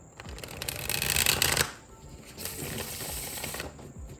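Tarot cards being riffle-shuffled close up, a loud fluttering burst that stops, followed by a second quieter, steadier run of card riffling.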